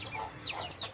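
A hen with four chicks, kept in a backyard in a big city, gives short, soft clucking calls nearby over a brief moment.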